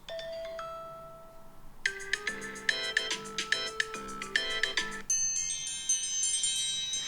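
Several iPhone ringtones previewed one after another: a short plain tone, then a bright repeating melodic chime pattern with rhythmic notes, then a higher shimmering tune, all clear and close with no talking.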